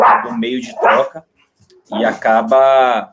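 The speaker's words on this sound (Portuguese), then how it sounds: "desculpe pelo cachorro, que hoje tá bravo" An agitated dog gives a few sharp barks and yips indoors, close and loud, mixed in with a person talking.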